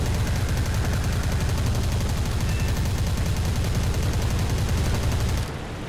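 Triple 20mm cannons on an I-185 fighter plane fire in War Thunder in rapid, sustained bursts, loud and close, cutting off abruptly near the end.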